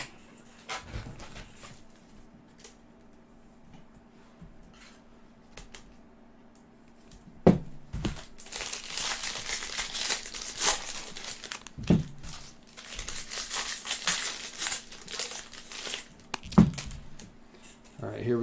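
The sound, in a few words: ripping open jumbo packs of baseball cards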